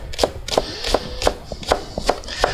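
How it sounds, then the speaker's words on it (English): A knife chops repeatedly through an onion's root end on a cutting board, giving sharp, evenly spaced knocks roughly every third of a second, close and fairly loud with no talking. "it requires more chopping, you know, going back over and over the same spot"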